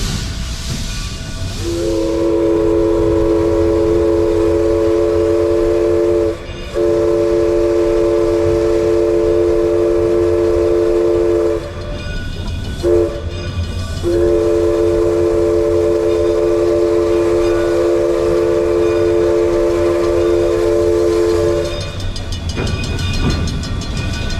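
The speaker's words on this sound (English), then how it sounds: "It was a real steam locomotive" Chuffing steam locomotive with a loud, sustained two-tone whistle blown in long blasts, briefly interrupted, over continuous rumbling and hissing.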